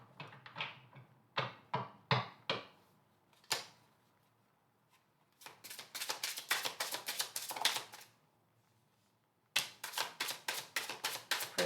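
Tarot cards being shuffled and drawn during a reading, with bursts of crisp riffling and flicking in clusters separated by short pauses, close and fairly quiet, with no talking.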